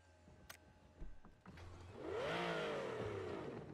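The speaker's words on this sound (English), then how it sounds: "it's got an upgraded exhaust too" An Aston Martin engine with an upgraded exhaust in the video game PUBG starts up and revs, rising then easing off in a throaty, sweeping burst after a few quiet clicks.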